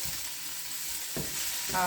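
Chicken meatballs, steamed first, sauté in a pan with a steady close sizzle, and a louder burst of frying near the end as they are stirred.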